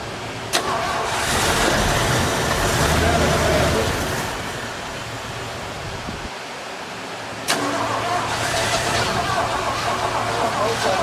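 A 1972 Mercury Montego MX engine idles and revs, with a sharp clunk near the start and another loud knock later as it is shifted into drive, barely pulling out.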